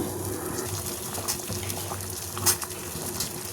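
Corn boils in salted water in a pot, giving a steady, soft bubbling and churning with a few brief louder pops, fairly close and without any voices.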